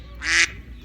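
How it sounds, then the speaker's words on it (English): Ducklings in a Rural King farm store in Spring Hill, Florida, giving a single short, fairly loud quack that stands out against low background hum. "We got quacking ducks."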